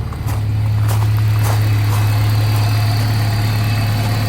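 A Honda Civic EP3 Type R with a K20 engine and Rotrex supercharger idles close by, a smooth, steady low hum with a constant even drone and no supercharger whine, alone without talk.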